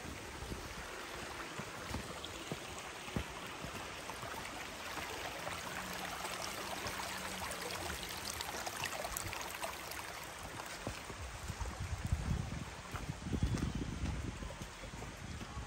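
Water flows over rocks in a dense forest under light rain, a constant broadband rushing wash that stays even throughout, with a few louder low gusts of wind buffeting the microphone near the end.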